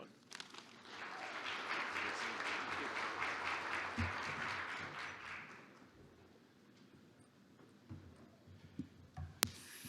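Audience applause at an association's annual meeting welcoming a speaker to the stage: a dense, steady wash of clapping for about five seconds, then fading into scattered claps and quiet room noise.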